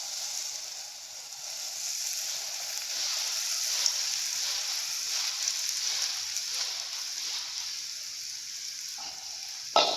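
Egg batter sizzles steadily in hot mustard oil in a pan, a continuous close frying crackle with no one speaking and a brief clatter at the very end.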